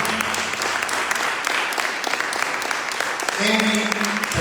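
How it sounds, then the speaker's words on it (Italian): A theatre audience at a Sicilian-language staging of Pirandello's comedy applauds in a loud, continuous burst, while a sustained musical note swells in near the end. "Emi, Terrassi, alzati, applauso."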